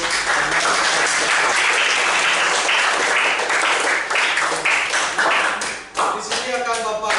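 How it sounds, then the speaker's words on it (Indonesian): A crowd applauds steadily and loudly for several seconds, the clapping tapering off near the end as a few voices murmur. "Tepuk tangan untuk"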